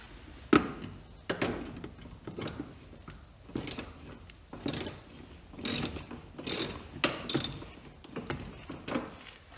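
Socket wrench ratcheting on a car bumper bolt during tow hitch installation, with irregular bursts of close, clicking pawl ticks separated by short pauses.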